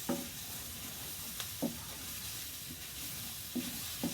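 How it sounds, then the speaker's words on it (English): Flour being stirred in a pan with beef for stroganoff makes a soft steady sizzle, punctuated by several distinct scraping strokes of a utensil against the pan; fairly quiet and close, with no talking. "we're going to put in our flour here and just move these around the pan"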